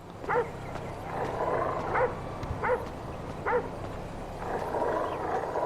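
Low dog-like growls and yips sound near Lester's house in GTA 5, a few short bursts spaced over steady ambient game noise, moderately loud with no talking.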